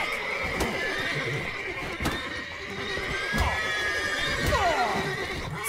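Horses neigh and whinny in The Witcher 3, several drawn-out calls rising and falling over the game's ambient background, with intermittent hoof clip-clops and occasional sharp knocks, fairly close and clear.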